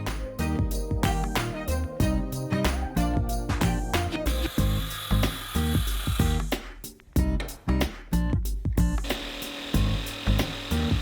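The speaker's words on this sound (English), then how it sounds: "I cut out a notch on the top and then a notch in the bottom on the other piece that I'm cutting out" A saw cuts a notch into a piece of wood for slotting two X-shaped legs together, giving rapid, loud rhythmic rasping strokes that continue with short pauses throughout.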